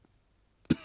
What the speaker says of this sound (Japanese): 少し咳込んだだけにございます